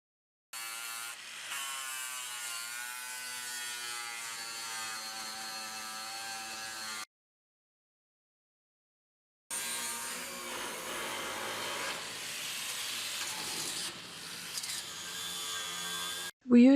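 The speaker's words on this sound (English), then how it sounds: "We used a combination of the resin sanding disc and the wire wheel to remove the paint." An angle grinder with a wire wheel and resin sanding disc strips paint from a steel shipping container, its whine running steadily in two long bursts with a silent pause between.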